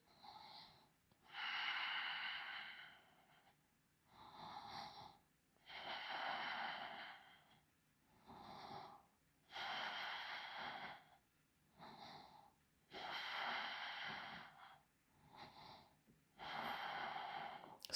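Slow, deep breathing in a yoga pose, long audible inhales and exhales alternating in a steady rhythm, close and quiet with no talk.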